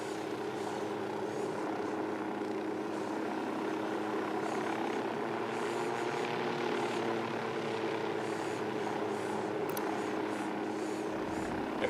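A drone in Ghost Recon Wildlands hovers with a steady whirring propeller drone and an engine hum, loud and continuous throughout, with the low rumble dropping away right at the end.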